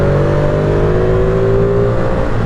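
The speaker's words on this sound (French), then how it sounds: "passer 5000 tours, il y a comme une vanne qui s'ouvre, la moto fait plus de bruit" A Ducati Streetfighter V2 motorcycle engine revs loud and close above 5000 rpm, a steady roar with rising tonal whine, nothing else audible.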